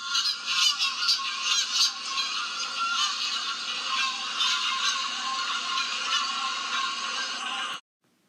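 A flock of Canada geese honking in a dense, continuous chorus, loud and overlapping calls that peak early, carry on steadily and then cut off abruptly near the end.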